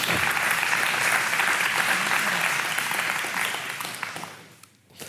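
An audience at a Torah teaching session claps loudly and continuously, a dense wash of hands that holds for a few seconds, then thins and fades out near the end.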